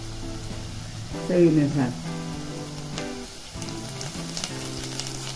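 Fried onion with turmeric and chili powder sizzling in a pan for a banana flower vegetable dish, a steady low sizzle with stirring scrapes, under a voice speaking briefly.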